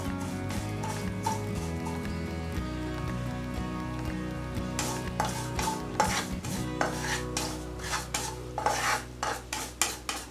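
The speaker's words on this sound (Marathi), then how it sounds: "छान तुपात फ्राय करायचे." Ingredients for laddoos fry in ghee in a pan, a soft crackling sizzle with stirring and scraping that grows into a run of sharp utensil knocks against the pan, over steady background music.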